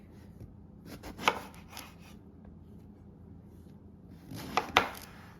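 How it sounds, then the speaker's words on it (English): A knife slices through eggplant on a cutting board, with a few soft cuts early on and two sharper, louder strokes near the end, separated by quiet kitchen background. "You want good slices, not too thin, not too thick."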